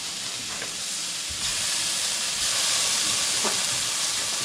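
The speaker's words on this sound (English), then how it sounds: "Okay, so now my pan is still extremely hot. We're going to pull out these pineapple rings." Pineapple rings sear in an extremely hot pan, giving off a steady, fairly loud hiss and sizzle that swells slightly partway through, with a few faint clinks, and no one speaks.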